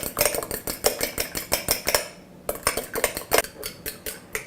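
A fork or whisk beats an egg mixture with green chili, salt and pepper against a bowl, producing rapid, rhythmic clinks that pause briefly midway and then resume, close and clear.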